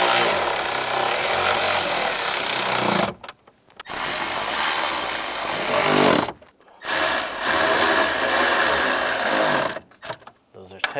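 A power tool driving screws into a 1999-2005 Volkswagen Jetta dashboard during a heater and A/C control swap, three loud sustained whirring bursts close by, separated by brief pauses.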